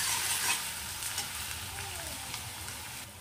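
Finely chopped onions fry in oil in a kadai with a steady, close sizzle and intermittent stirring scrapes. The sound eases slightly toward the end.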